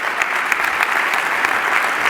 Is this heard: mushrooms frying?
no